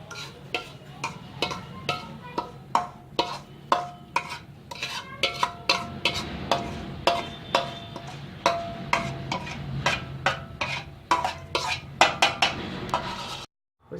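A spatula scrapes and clinks against a kadhai again and again in a quick, uneven rhythm, shifting dry roasted semolina (rava) to one side, with a low background rumble and no talking.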